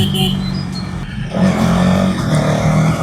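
A Hero Xtreme 250R 250cc naked motorcycle engine runs close by and steps up in a rev partway through, then holds a strong, even roar while voices talk over it.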